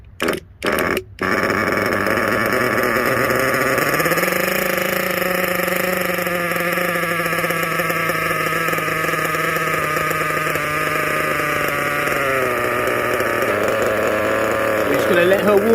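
A Kyosho USA-1 nitro RC truck engine, being broken in, rattles a few times before it fires, then buzzes loud and close at a steady idle, its pitch rising briefly and settling, with a voice talking over it.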